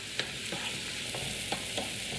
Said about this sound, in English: So I'm going to be stirring this all in, and all those onions and green peppers are going to mix in.